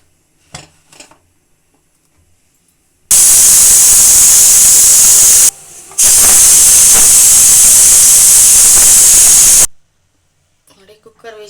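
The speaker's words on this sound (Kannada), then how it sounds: "cooker vigil" A pressure cooker on a kitchen stove, cooking a lentil-and-bean sambar with flat beans, blasts a loud, sharp whistle of escaping steam that hisses steadily, cuts off briefly, then resumes before stopping abruptly, with quiet sounds before and after.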